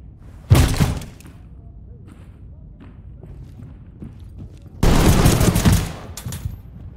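Two loud, close bursts of automatic gunfire from the tactical shooter game Ready or Not, the first brief and the second longer, separated by a quieter stretch with faint movement sounds.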